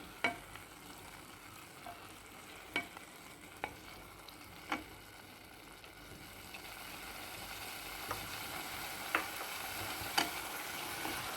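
Ginger garlic paste fries for chicken curry with a quiet continuous sizzle, punctuated by irregular light clinks and scrapes from stirring; low in level and with no voices.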